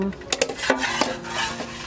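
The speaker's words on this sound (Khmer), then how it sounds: "ឥឡូវនេះយើងច្របល់វាចូលគ្រឿងហើយ" A spoon stirs a pumpkin custard mixture in a pot, scraping and clinking against the metal sides in quick irregular strokes.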